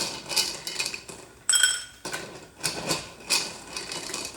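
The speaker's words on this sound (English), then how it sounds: "I'm going to put the little scoop in the mini eggs" A small scoop clinks and rattles among a bowl of mini chocolate eggs, several short bright clicks and clatters in quick bursts, close and fairly quiet.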